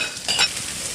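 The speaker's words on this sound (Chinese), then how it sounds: "来点油，炒点姜葱蒜、干花椒、坛子肉、" Ginger, scallion, garlic, dried Sichuan pepper and jar-preserved pork hit hot oil in a wok, a close, bright sizzle with a quick stirring scrape near the middle, steady and crackling.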